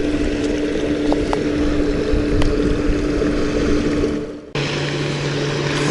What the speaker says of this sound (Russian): Вот больше всего я опасаюсь вот таких катеров.